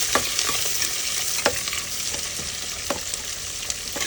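Onions fry in hot oil with a constant close sizzle, while a spoon stirs them and makes soft scraping clicks against the pan every second or so.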